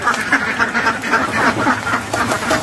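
Ducks on a duck farm quack steadily and close by, a dense overlapping chorus with no pauses and no one talking.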